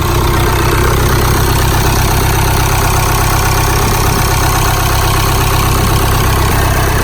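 An Audi Q5 engine idles steadily after a turbo install, a continuous even rumble with a hum that holds at a constant level throughout, with no voices.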